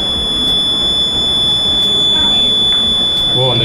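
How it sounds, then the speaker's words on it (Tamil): An alarm buzzer at a school science exhibition blares as a loud, steady high-pitched tone that runs without a break through the clip, over a noisy crowd with people talking. "அலாரம்."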